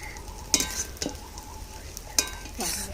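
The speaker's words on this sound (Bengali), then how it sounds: "ডিমটাকে বেশি কড়া করে ভাজবো না, অল্প ভেজে তুলে নিচ্ছি" Egg lightly frying in a pan while a Bengali egg and bottle gourd dish is cooked: a quiet, steady sizzle broken by a few sharp scrapes and clinks of a utensil against the pan, with no talking.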